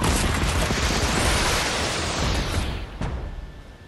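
Gunfire rattles in Fortnite Battle Royale, a dense, loud barrage of rapid shots that runs unbroken for several seconds, then thins out near the end.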